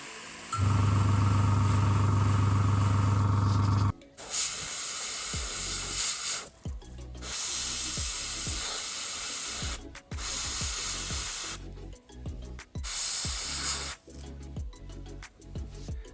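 A Harder & Steenbeck Ultra 2024 airbrush sprays paint onto a model with a close, steady hiss. A loud compressor-like tone opens the sequence, then intermittent spray bursts start and stop over several seconds.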